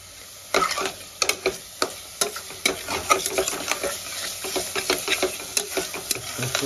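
Spices for egg biryani are stirred and fried in a pan, a spoon scraping and clacking in irregular sharp taps over a soft steady sizzle, close and fairly quiet, with no talking.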